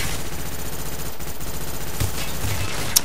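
A burst of video game shooter gunfire crackles as shots are put into an enemy on a map spot called icy computers, a steady rattling of rapid shots with a couple of sharper cracks near the end.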